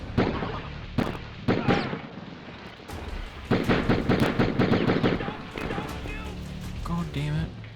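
Gunfire from a PS1 video game pops in sharp single shots and quick bursts, fairly loud and uneven in rhythm, with people talking over much of it.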